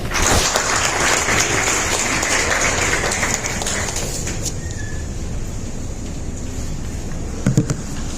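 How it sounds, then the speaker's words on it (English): A large audience at an engineering school event applauds loudly to welcome a keynote speaker, a dense wash of clapping that thins and fades toward the end with a few scattered claps. "Please welcome him with a big round of applause."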